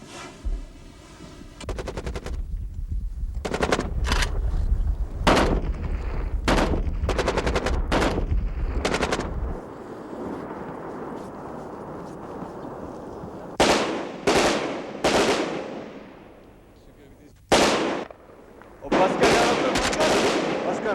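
Rapid bursts of celebratory gunfire from soldiers' rifles in a Pakistani army drama, loud volleys and single cracks repeating over about twenty seconds, with brief gaps and a steady rushing background between bursts.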